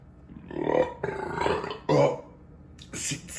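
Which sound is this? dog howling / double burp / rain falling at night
double burp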